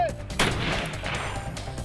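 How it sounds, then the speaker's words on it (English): A Colt competition rifle fires during a shooting-competition stage, a loud sharp crack that booms and rolls out into a sustained outdoor echo. "starting with his Colt competition rifle"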